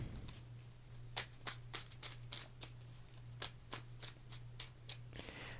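Tarot cards being shuffled by hand in a quiet room, a steady run of about a dozen crisp riffling flicks over a low constant hum, close and fairly quiet with no talking.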